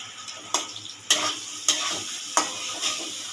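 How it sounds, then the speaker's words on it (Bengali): Ground spice paste made with green chillies, no garlic or onion, being stir-fried in a hot pan: a steady low sizzle broken by several sharp spoon scrapes and stirs at uneven intervals. "এবার কষিয়ে নেব এই মশলা দিয়ে।"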